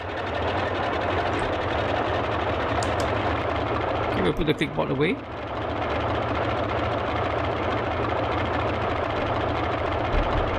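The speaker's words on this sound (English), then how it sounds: "Okay, engine number 2 started." The simulated radial engine of a Boeing 247D runs in MSFS 2020 as a steady, droning mid-low rumble. Someone briefly talks over it, and a few clicks sound partway through.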